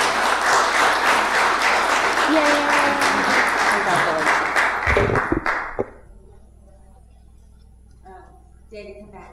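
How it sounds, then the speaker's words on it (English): An audience at a city council meeting breaks into a round of applause for an Arbor Day proclamation, steady clapping for about five seconds before it fades into quiet with a few scattered taps and a voice. "Let's have a round of applause for David."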